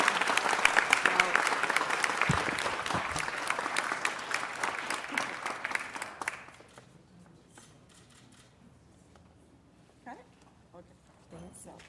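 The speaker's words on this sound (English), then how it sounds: "Let's honor her with a big round of applause." Applause for an honoree at a city council meeting, a dense round of clapping that fills the room for about six seconds and then drops away to quiet chamber noise with faint shuffling.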